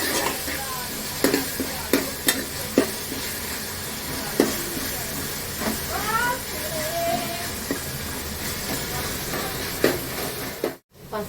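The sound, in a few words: stirring ginger garlic paste into chicken curry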